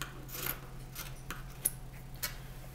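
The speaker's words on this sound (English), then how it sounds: "We're also going to cut off the hem of the sleeves as well, because it's just too hard for those little scissors to go through the hem." Small scissors cutting through the sleeve hem of a cotton t-shirt: a few soft, scattered snips and fabric rustles at close range, quiet, with one sharper click, and no talk.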